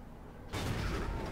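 The gun of an FV4202, a Tier 10 British medium tank in World of Tanks, fires a single sudden boom over a low hum, leaving a broad, rumbling tail that holds steady to the end.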